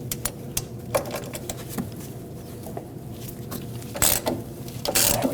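Ratcheting wrench clicks in quick bursts as three 15mm strut mounting nuts are broken free and removed at the strut tower of a 2007-2017 Ford Expedition, close and fairly loud with a couple of sharper metallic knocks.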